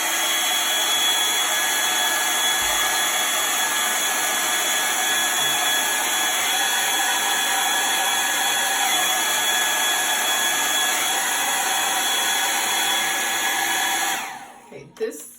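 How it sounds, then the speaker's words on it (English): A hair dryer that runs not very hot blows steadily with a constant whirring hiss for a long stretch, then switches off near the end. "this hairdryer is not very hot. It's drying it, but it's not super hot"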